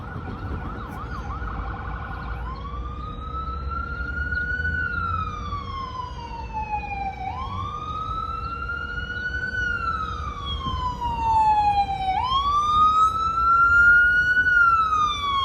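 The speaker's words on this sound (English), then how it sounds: "let's wait for the fire truck or ambulance." A fire truck or ambulance siren wails in long rising and falling sweeps, steady and fairly loud over a low rumble of road traffic in Orlando, Florida, growing slightly louder toward the end.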